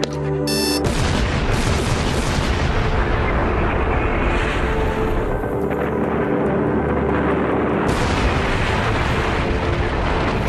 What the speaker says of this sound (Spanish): La explosión fue como unos fuegos artificiales